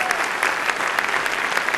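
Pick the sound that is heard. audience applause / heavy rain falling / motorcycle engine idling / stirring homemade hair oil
audience applause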